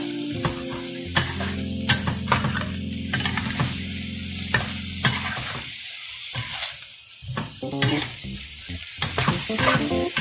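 Frog is stir-fried with holy basil and pea eggplant, a steady sizzle under repeated scraping and clattering of the spatula in the pan, close and continuous with no talking.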